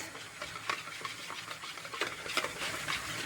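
A utensil scrapes and swirls around a pot in a steady stirring rhythm while chocolate pastry cream cooks, with a soft bubbling, simmering hiss of heating milk underneath.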